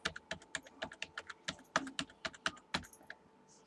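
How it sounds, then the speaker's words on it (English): Someone types an IP address on a computer keyboard: quick, irregular, crisp keystrokes heard close up and fairly quiet, with no voice. "So I open a new tab and I type the IP address of the device."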